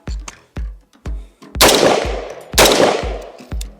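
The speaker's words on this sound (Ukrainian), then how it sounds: "чи буде постріл" A rapid series of sharp gunshots from a UAR-15 rifle dipped in swamp water, several quick cracks followed by two louder blasts with a short ringing tail, all close and without talk.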